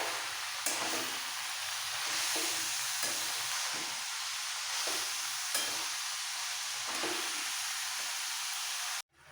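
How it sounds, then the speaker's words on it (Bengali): Radish and potato curry (mulor ghonto) sizzles and hisses in a pan while being stirred, a continuous frying crackle with soft periodic scraping strokes of the spoon, fairly quiet and with no talk. "এবার একটু মিক্স করে ফেলবো ওপর মিক্স করে"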